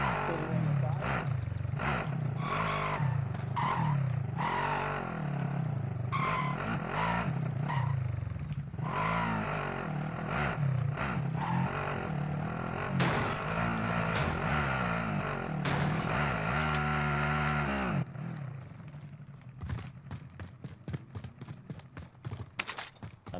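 A car engine in Call of Duty Cold War Warzone, revving and roaring in bursts with rising and falling pitch, close and loud, over people talking, then dropping to quieter rattles near the end.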